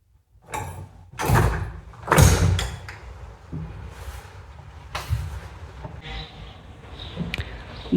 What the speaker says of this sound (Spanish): Voy a salir a la terraza por esta puerta.